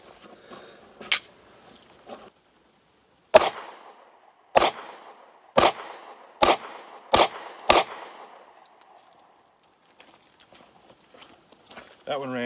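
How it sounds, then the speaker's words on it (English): Sharp, loud gunshots from a Kahr P40 pistol during break-in shooting, about seven reports spaced irregularly, each cracking out and decaying quickly, with quieter handling noises between them. "let's do some more shooting"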